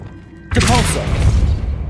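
A Depulso spell strikes in the wizarding video game Hogwarts Legacy, a sudden loud burst that swells into a roaring, whooshing blast with a bright magical shimmer, fading gradually over the following second.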